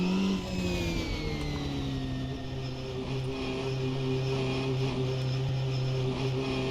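A race car engine in the Automobilista 2 racing game holds a steady, high, buzzing drone with a slight falling pitch, loud and continuous with no talk over it.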